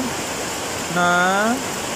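Steady rain hisses around a Coromax e-bike on a ride home, a dense, even wash of noise throughout, with a short voiced sound rising briefly near the middle.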